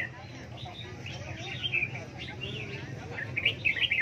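Small songbirds at a pet bird market chirp and tweet in quick, high bursts amid low background murmur and crowd noise.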